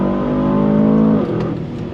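A 2023 Aston Martin DBX 707 SUV's loud, droning engine revs hard under throttle, its steady roar holding then dropping in pitch as it shifts and keeps pulling.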